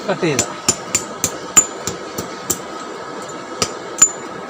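Blacksmith's hammer striking a piece of hard steel being forged into a curved sickle-style knife, about a dozen sharp ringing metallic blows in an irregular rhythm, close and loud over a faint workshop background.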